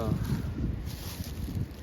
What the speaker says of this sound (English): I'm thinking that's what's going on now with all this wind we're having.